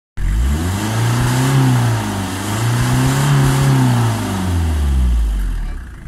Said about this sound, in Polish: wysłał dźwięk silnika